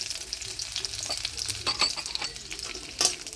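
Raisins and cashews sizzle in a pan, frying steadily with crackling pops and occasional stirring, close and without talk.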